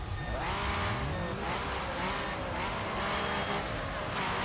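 Mustang race car in the game Wreckfest, engine droning continuously with sweeping pitch rises and falls, tires squealing faintly as it races, loud and steady throughout.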